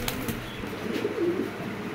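A female Shadeluma pigeon struggles in a person's hand, giving a few brief, close wing flutters and soft rustles against low background noise.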